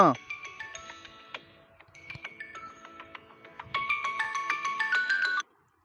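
A tinny electronic melody of bright stepped notes plays for several seconds, swelling louder toward the end before cutting off abruptly, like a phone ringing.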